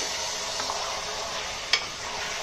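Chicken masala is stirred in a hot, sizzling pan, giving a continuous close hiss with a few soft scrapes and one sharp clink of the spoon against the pan.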